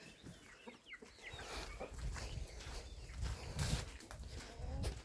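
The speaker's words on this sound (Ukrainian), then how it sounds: "курка пробралася вон" Chickens cluck and scratch about a hot farmyard shared with turkey poults, geese and ducks, a steady stream of soft clucks and rustling at moderate distance with no talk.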